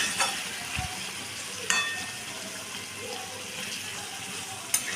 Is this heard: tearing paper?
no